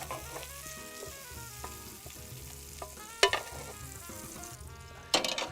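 Asparagus fries in meat fat in a pan with a close crackling sizzle, mixed with stirring clinks, and a couple of sharper pops and scrapes near the end.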